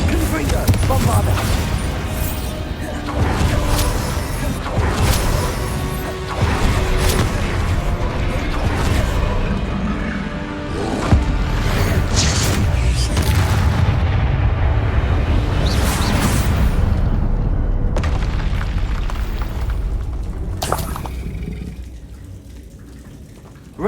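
Bombarda explosion spells in the video game Hogwarts Legacy, heavy booming blasts mixed with crackling debris and game effects, loud and near, repeating across the scene with speech over them.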